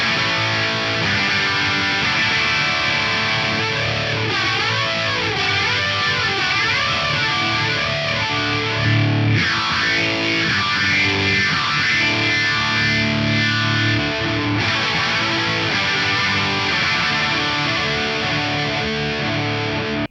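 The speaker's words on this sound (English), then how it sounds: "Time-based modulation effects. So we're talking about chorus, flanger, phaser." A music demo of chorus, flanger and phaser modulation effects, with a loud, dense, distorted instrumental passage whose sweeping, swirling tonal shifts repeat throughout.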